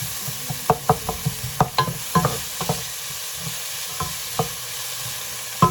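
Garlic frying in a pot as the base for a diet cabbage soup, a soft steady sizzle broken by a string of clinks and scrapes from stirring, all without any talk.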